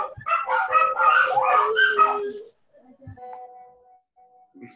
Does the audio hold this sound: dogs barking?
yes